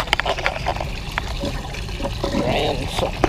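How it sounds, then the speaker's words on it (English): Water trickles and splashes steadily as it drains from a fish tank on a fishing boat, a continuous light liquid flow with some handling knocks, and someone speaks over it. "Ran some of the water out."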